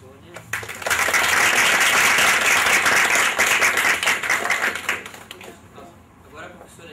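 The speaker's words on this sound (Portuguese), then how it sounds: "eu queria uma salva de palmas" An audience at a lecture breaks into applause after a brief lead-in, with sharp individual claps building into a dense burst that holds for several seconds, then thins out and fades.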